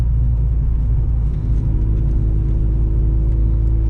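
A Vauxhall Astra GTE 16V drives along with a loud, steady low engine and road rumble heard from inside the car, continuous throughout with no speech.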